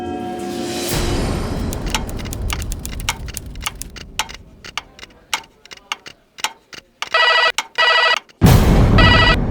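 A telephone rings in loud electronic bursts after a run of rapid, sharp ticking clicks.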